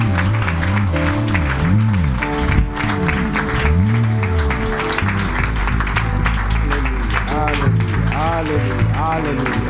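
A church congregation applauds the pastor with steady, loud clapping and crowd noise throughout, while a voice speaks and sings over it.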